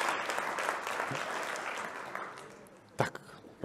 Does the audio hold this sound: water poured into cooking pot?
no